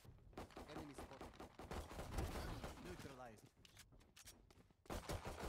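Pistol fire in Valorant: quick bursts of sharp shots, some close and some distant, mixed with game effects under an excited voice talking.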